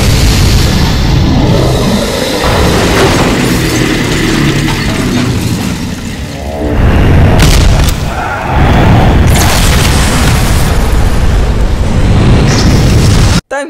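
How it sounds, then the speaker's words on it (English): Loud, continuous monster roar of the zombie Skibidi toilet, growling and booming with a brief dip near the middle, then surging again until an abrupt cutoff. "You are right, it's zombie Skibidi toilet."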